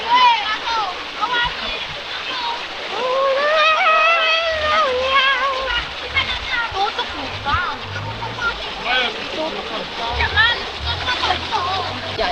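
Water splashes and churns in a river with a continuous close rush and splatter, while several people talk and call out over it.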